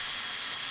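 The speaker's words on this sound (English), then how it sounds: "loosening up all the rocker cover bolts" A ratchet wrench working on the rocker cover bolts of a BMW N13 engine in a 1 Series, giving a short close burst of fast clicking pawl noise with no talk.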